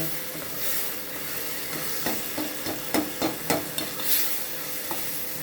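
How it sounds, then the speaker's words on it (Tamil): Onions and tomatoes sauté in a pan for South Indian kara kuzhambu, a soft steady sizzle under a series of spatula scrapes and stirs, close by and moderately loud. "வெங்காயம் தக்காளி வதங்கிடுச்சு"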